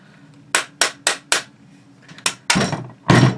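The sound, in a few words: hammering a part out of a Type 81 rifle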